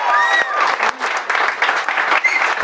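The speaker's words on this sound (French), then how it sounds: "je vous demande un tonnerre d'applaudissements" Audience applause greets a guest on a comedy game show, a dense, steady wash of clapping from a studio crowd with a few scattered shouts on top, sustained for the whole span.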